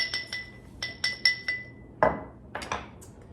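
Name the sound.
muddling basil in a cocktail glass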